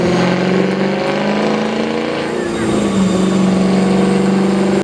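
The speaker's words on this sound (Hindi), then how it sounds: "V8 engine rambling sound produce करता है" A V8 engine rumbles at a steady, loud drone with a thick harmonic tone, holding an even pitch throughout with a slight shift in the latter half.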